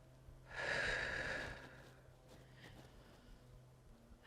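A single loud, forceful breath, rushing in then out, drawn during a yoga crescent lunge; it is heard alone, with quiet room tone before and after.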